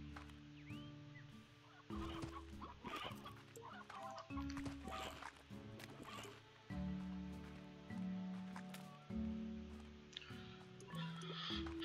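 Chickens in the Slime Rancher video game cluck and gobble in scattered bursts over a quiet ambient background, with a few soft tonal chimes mixed in.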